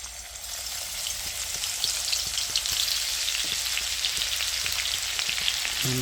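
Ginger garlic paste sizzles and fries in hot oil, a steady close crackle with small pops. The frying stays dense and even throughout, with no voices.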